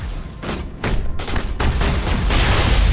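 Loud gunfire rips through a Mass Effect firefight: a few sharp bursts at first, then building into a near, continuous volley with heavy low thumps.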